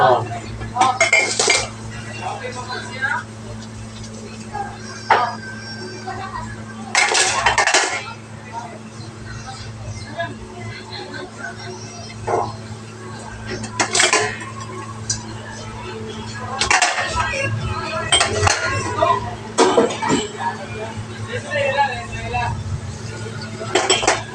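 A large pile of dishes, pots and cutlery is being washed. Close clinks and clattering of plates, pans and utensils come in irregular bursts over running water, with a voice heard now and then.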